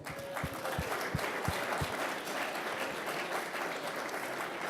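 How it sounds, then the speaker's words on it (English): Audience at a presentation event applauds in a steady, sustained burst of clapping that fills the whole stretch, with a few sharper individual claps standing out near the start. "So can we give all of ourselves and all the participants so far a round of applause?"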